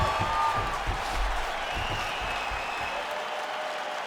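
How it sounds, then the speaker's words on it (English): A crowd in EA Sports UFC 5 applauds steadily after a round, a dense wash of clapping that slowly thins out toward the end. "they can take in the applause because they deserve it after that grappling exchange"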